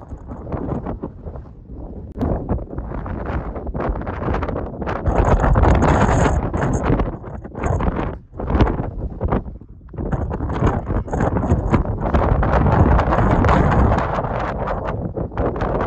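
Strong Patagonian wind blasting across the microphone on a mountain trail, loud and gusty roaring that surges and briefly drops, with no voices.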